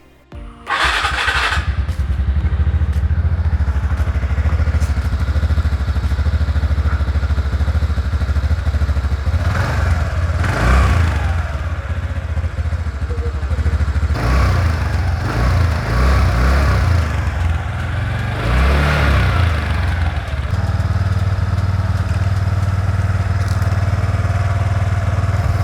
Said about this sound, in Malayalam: ഇനി നമുക്ക് വാഹനം ഒന്ന് സ്റ്റാർട്ട് ചെയ്ത് സൗണ്ട് ഒന്ന് ശ്രദ്ധിച്ച് നോക്കാം.